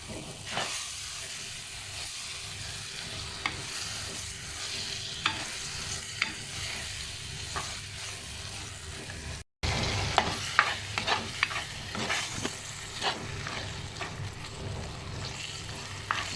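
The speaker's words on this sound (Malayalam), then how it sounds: "കുതിർത്ത് വെച്ചിരിക്കുന്ന കുടംപുളിയും ആ വെള്ളത്തോടൊപ്പം ചേർത്ത് കൊടുക്കാം. വീണ്ടും നന്നായി ഇളക്കാം." Mackerel curry with soaked kudampuli and its soaking water is stirred in a pan. A steady sizzle runs underneath repeated scraping strokes, and a brief dropout in the middle cuts the sound off before stirring resumes more busily.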